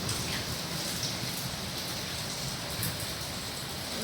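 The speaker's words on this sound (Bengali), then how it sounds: "ফাইনালি বৃষ্টিটা হলো অনেক দিন পরে, প্রায় 6-7 দিন পরে বৃষ্টিটা হলো।" Steady rain falls after a dry spell, a continuous, even hiss that stays fairly faint throughout.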